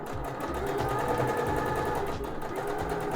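A sewing machine stitches a tie top in a home sewing session, running at a steady, rapid mechanical chatter that continues without pause.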